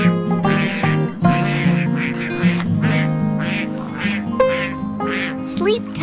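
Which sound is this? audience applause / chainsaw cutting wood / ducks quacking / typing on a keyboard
ducks quacking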